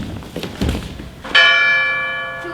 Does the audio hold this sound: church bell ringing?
yes